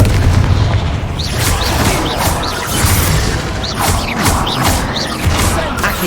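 Confringo blasting spells in Hogwarts Legacy, booming explosions repeating over a steady roar of battle, loud and continuous with rhythmic bursts about every half second.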